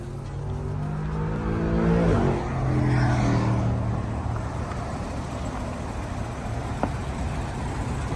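The automatic four-cylinder engine of a 2011 Nissan Sentra hums steadily nearby, briefly rising in pitch and loudness as it revs before settling back to an even idle.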